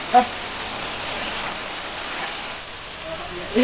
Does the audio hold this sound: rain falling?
yes